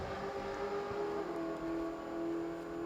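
Drag race car engine heard through its exhaust pipes, a steady droning tone at moderate distance with a slight pitch shift midway.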